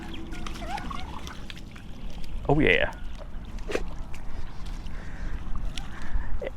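Pets play and splash in water outdoors, with brief sloshing and trickling sounds, one clearer splash near the middle, and a person talking throughout.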